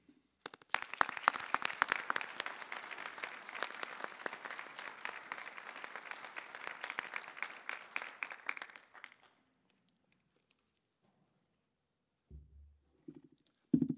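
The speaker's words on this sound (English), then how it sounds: "You deserve a warm round of applause from all of us for all of your support for your graduates." Warm applause at a winter graduation convocation honoring graduates' families and friends, a crowd clapping steadily for about nine seconds before fading to near silence, with faint sounds at the end.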